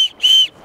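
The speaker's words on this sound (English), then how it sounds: "It's got a whistle built into the buckle right here." A whistle built into the buckle of a Vanquest IBEX-26 backpack is blown twice: a short shrill toot, then a longer piercing blast, loud and close, with no talk.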